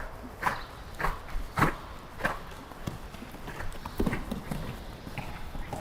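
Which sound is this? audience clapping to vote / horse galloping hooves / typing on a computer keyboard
horse galloping hooves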